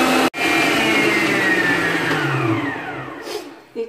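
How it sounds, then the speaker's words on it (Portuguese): A stand mixer beats sponge cake batter with a loud, steady motor whine that holds nearly constant, then slowly lowers in pitch and fades slightly before a brief clunk at the end. "deixei na batedeira por volta de 5 minutos"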